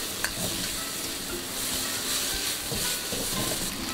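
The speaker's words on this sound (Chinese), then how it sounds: "用这个油来炒香姜蒜再开大火下入山药和红辣椒" Yam and red chili stir-fried over high heat in oil with ginger and garlic, a continuous close sizzle with tossing and scraping sounds in a wok.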